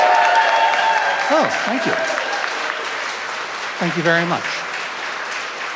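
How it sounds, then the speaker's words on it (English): A live audience at a touring comedy podcast show in Madison applauds steadily, a broad wash of clapping that fades gradually while someone talks over it. "Round of applause for producer"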